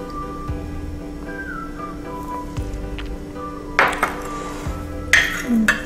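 Orange blossom water is stirred with essential oil in a container, giving light clinks and taps of a utensil against glass, a few sharper scrapes and rattles near the end, close and without talk.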